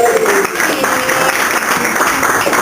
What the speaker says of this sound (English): Clap! Get excited, clap!